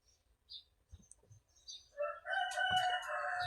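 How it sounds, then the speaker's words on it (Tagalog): A rooster crows once, fairly close, after a few faint clucks and soft background sounds, with no talk. "Ang ingay pa ng manok."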